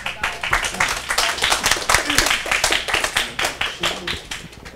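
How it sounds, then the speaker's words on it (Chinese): At a student talk event, a roomful of listeners claps to welcome a speaker. The sharp, close hand claps come in a quick, uneven patter that stays lively for several seconds, with faint voices beneath. "让到我们掌声欢迎这位讲者"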